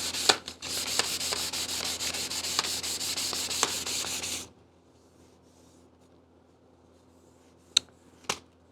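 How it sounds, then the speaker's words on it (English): Hand sanding a salvaged-wood tool handle to remove scratches, likely with 240-grit paper: steady, close, rasping back-and-forth strokes for about four seconds, then near silence broken by a few sharp clicks. "So we'll keep hand sanding, get rid of any scratches we've got."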